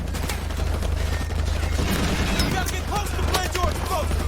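Steady gunfire fills the scene from Call of Duty Modern Warfare, a battlefield where an SAS soldier cuts down flanking enemies and is then caught by a grenade blast; continuous loud crackle with a low droning bed and scattered sharper bursts.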